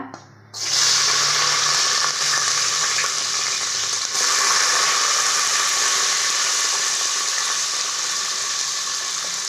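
Onions, green chillies and curry leaves drop into hot oil and start frying, a sudden loud sizzle that holds steady and close after a quiet start.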